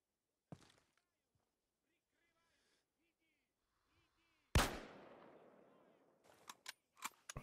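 Gunfire in Arma 3 during an Antistasi mission: a single sharp crack, then a louder shot with a long rolling echo, followed by several quick reports near the end. A faint voice is present in the quiet gap.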